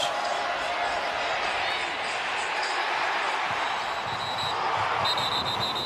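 A college football stadium crowd, Oklahoma State against West Virginia, stirs and murmurs at replays of a contested fumble call, a dense, steady roar spread evenly through the stands with no single voice standing out.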